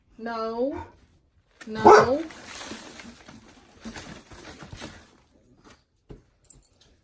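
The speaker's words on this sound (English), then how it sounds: "He will bark and he will bark. He's the barker." A dog whines, then barks loudly up close, with someone talking over it and a few sharp clicks at the end.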